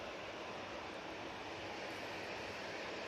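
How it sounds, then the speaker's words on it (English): A Ryanair airliner comes in to land, its engines giving a steady, broadband roar that stays loud and even throughout with no voices. "Ryanair now making its appearance from behind the bush."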